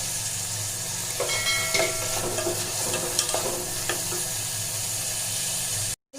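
Green chillies and curry leaves sautéing in a hot pan give a steady close sizzle broken by scraping stir strokes, with no voices, before a short drop to silence at the very end.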